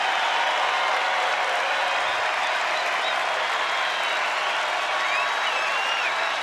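Home fans at a Rangers baseball game against the Angels stand and applaud, a dense, steady roar of clapping and cheering filling the ballpark with no break for the whole stretch.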